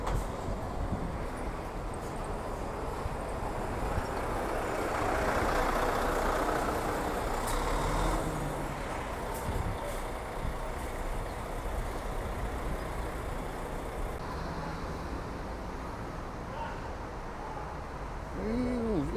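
A Transnorte intercity bus on the Montes Claros to Belo Horizonte route rolls past at a Belo Horizonte bus terminal. Its engine rumble swells through the middle and then eases back into steady station noise.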